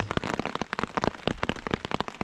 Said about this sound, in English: Now it's just raining on us.